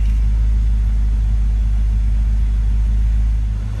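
A BMW M5/M6 4.4-litre twin-turbo V8 idles steadily nearby, a deep, constant low rumble with no revving and no voices.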